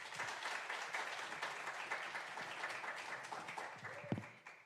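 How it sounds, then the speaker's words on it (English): Audience of teachers at a code-a-thon event applauding, a dense steady clapping that fades out at the end, heard from a distance and fairly quiet. "Can you give yourselves a big round of applause?"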